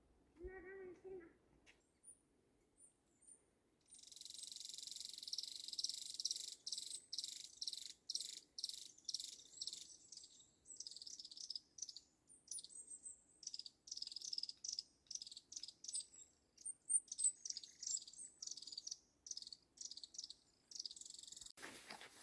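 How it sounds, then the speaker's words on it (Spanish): Crickets chirp in quiet, pulsing bursts through the Arrayanes forest near Bariloche, faint and continuous with a soft stillness beneath, after a brief voice at the start. "Llegamos al bosque de Arrayanes."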